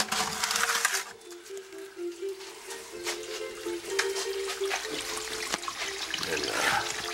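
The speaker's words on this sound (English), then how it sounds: "I got slurry here." Slurry water runs and splashes through a rock-washing setup that sorts out stones, a steady rushing flow with brief clunks of rock, close and fairly loud throughout with no talking.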